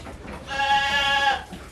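A goat on a goat farm gives a single loud, wavering bleat lasting about a second, close by with a quiet background.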